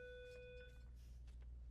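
A bell rings during a school sports broadcast, a soft chiming tone lasting under a second then fading, faint and somewhat distant over a low background hum.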